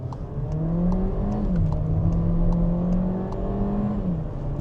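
A 2025 SEAT Arona compact SUV with a fairly large engine accelerates while driving. A steady engine drone rises and dips with the revs, and a continuous road and wind rush sits beneath it, heard from inside the car.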